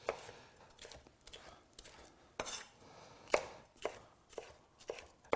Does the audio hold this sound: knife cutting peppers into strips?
yes